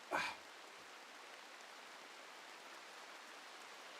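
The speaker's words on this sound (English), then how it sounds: "Let's listen to the sound of rain." Rain falling in the video game Seekers of The Sludge, a faint, steady hiss of rainfall after a brief knock at the start, with no talk.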